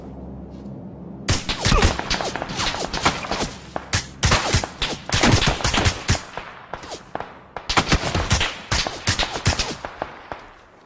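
Gunfire in the video game PUBG, loud rapid bursts of automatic shots crackling in dense volleys with short pauses between, close and sharp throughout.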